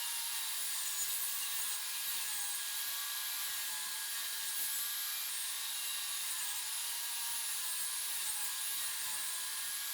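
Steady, continuous hissing cut of reclaimed wood boards being sawn to width, a bright, even power-tool drone with no pauses throughout.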